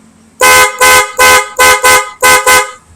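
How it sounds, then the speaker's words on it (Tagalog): A Honda ADV160 scooter's loud aftermarket horn blasts six times in quick succession, each honk short and blaring, very close. "Next natin yung kanyang loud horn."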